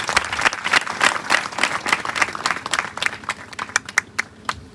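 Congregation clapping at a Hindi church gathering, a steady wash of hands that thins into a few scattered, sharper claps toward the end.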